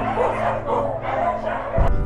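Many dogs at a dog shelter bark, yip and whimper together in a constant, overlapping din that runs straight through and peaks sharply near the end.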